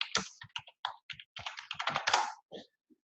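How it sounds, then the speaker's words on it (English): Keystrokes on a computer keyboard, typed out in short uneven bursts and single taps, close and clear with no talking over them. "I'm just going to type in a travel company I know."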